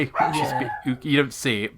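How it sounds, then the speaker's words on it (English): A dog barks in the background while a person keeps talking in the foreground during a podcast conversation; the barks stay fairly faint beneath the steady speech. "You'll have to excuse the dog in the background."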